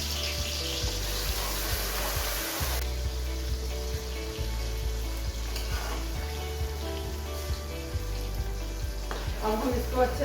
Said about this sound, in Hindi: अब हम इसमें ऐड करेंगे प्याज, अदरक और लहसुन का पेस्ट।